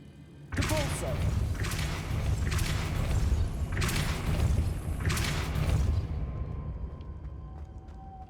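A Depulso spell cast in Hogwarts Legacy lands as a sudden loud boom, followed by four or five evenly spaced heavy whooshing thuds, with a softer tail at the end.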